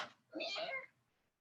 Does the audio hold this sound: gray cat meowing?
yes